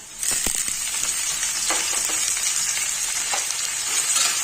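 Onion and cabbage sizzle steadily in a hot pan for cabbage rice, a continuous close frying hiss with a few soft stirring scrapes, no voices.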